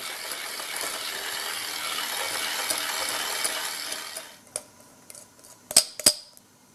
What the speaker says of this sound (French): on va pouvoir fouetter notre baume